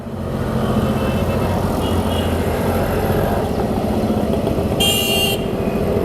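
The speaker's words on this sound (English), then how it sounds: "I don't know if you can hear the engine, but the engine is very slow." A motorcycle engine hums at low revs in fifth gear, steady and close, with a short car horn toot near the end.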